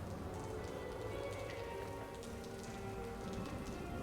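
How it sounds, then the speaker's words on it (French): Steady rain pattering on a surface outdoors in the video game Watch Dogs, dense and continuous throughout, with no voices. "D'ailleurs, il pleut."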